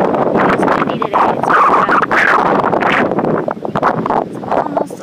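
Steady, loud wind at Waikoloa buffeting the microphone with a continuous rumbling roar and gusty fluctuations throughout.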